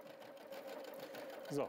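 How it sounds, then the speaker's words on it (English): A W6 N 5000 Exklusive sewing machine runs an overlock stitch in a steady close hum, the needle swinging right every few stitches. A voice starts to speak at the very end. "Let's start sewing. The machine is mainly sewing on the left and moves over to the right every few stitches."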